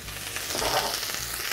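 Garlic and ginger sizzle hard in a hot pan alongside chili for a Kung Pao chicken dish, a dense continuous frying hiss with stirring, close and loud with no talking.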